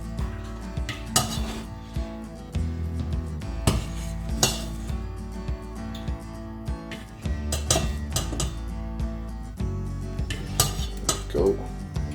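Browned beef pieces for a brown stew are lifted out of a metal pot, with a spoon clinking and scraping against the pot in irregular close knocks over a steady tonal background.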